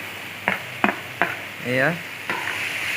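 Dried fish and tomatoes frying in a pan while being stirred, with a steady sizzle broken by several sharp scrapes of a spatula; a voice speaks briefly partway through.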